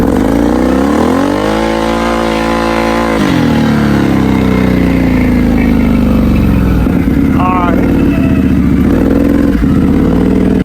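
Vehicle launching from a standstill at full throttle, a loud close engine climbing rapidly in pitch then settling into a sustained roar with rattling clatter, talk faintly present beneath.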